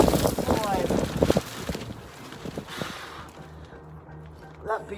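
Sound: big gust of wind

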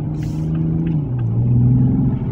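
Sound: Toyota Supra 2020 engine and factory exhaust revving

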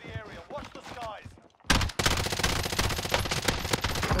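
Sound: gunfire in video game Call of Duty Warzone

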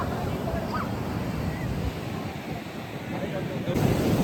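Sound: waves and wind at Candolim beach, Goa

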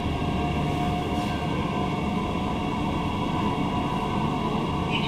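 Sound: Queensland Rail SMU 220 series suburban train running

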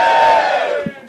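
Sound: comedy club audience booing

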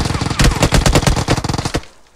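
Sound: gunfire from a video game, Uzi shooting

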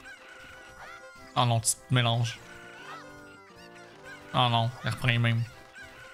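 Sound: chicken (cucco) clucking in video game Zelda Ocarina of Time

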